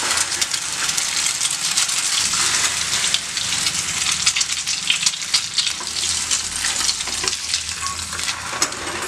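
Sugar-soaked bread slices for French toast fry in a pan with a loud, dense, continuous sizzle and crackle throughout, heard close up with no talking.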